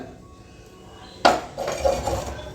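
Oil being added and swirled inside a clay matka pot for vegetable pulao, a sudden loud clink of metal on pot followed by scraping and swishing, close and alone with no talk.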